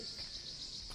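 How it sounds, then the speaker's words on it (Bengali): Crickets chirp in a dense continuous high trill near Arwah cave in Meghalaya, steady and fairly close throughout the short moment. "চারিদিকের পরিবেশের মধ্যে রয়েছে এক ঝিঝি পোকার ডাক"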